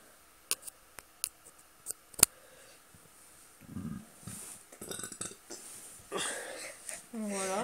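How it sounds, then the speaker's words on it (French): A person burps while presenting a Wii U and Call of Duty Black Ops 2 gameplay, heard among scattered clicks and ticks, with voices talking in the background. "Excusez-moi, c'est moi qui ai roté"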